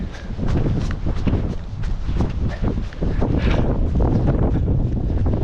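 Strong coastal wind batters the microphone with loud, continuous low roaring and gusting buffets, occasional sharper surges rising above the steady rush, heard outdoors on a long seaside running route on the shortest day of the year.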